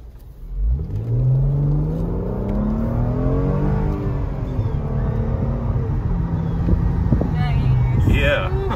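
A 2014 Mercedes-Benz E350 Cabriolet accelerates hard in sport mode, its engine note climbing steadily in pitch and then holding a strong, continuous drone with road and wind noise, heard from inside the car.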